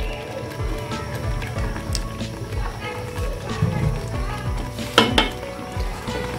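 Masala paste for kadhi pakora cooking in about a cup of oil, with steady sizzling and frying under repeated stirring scrapes and occasional utensil clinks against the pot, close up.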